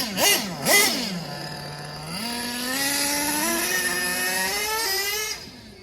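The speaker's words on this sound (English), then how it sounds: "The idle is so nice. It's a good engine." A small nitro engine in a Traxxas T-Maxx RC truck buzzes close by, with two sharp throttle blips before settling into a steady, high-pitched idle drone that slowly climbs in pitch.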